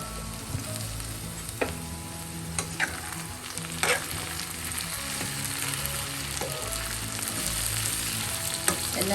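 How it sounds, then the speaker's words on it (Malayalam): Brinjal and potato stir fry sautéing in a pan, a continuous close sizzle with sporadic spatula scrapes and taps as the vegetables are stirred, no voices. "അടച്ച് വെച്ചൊന്ന് വഴറ്റാം. ഇടയ്ക്ക് തുറന്നൊന്ന് ഇളക്കി കൊടുക്കാം."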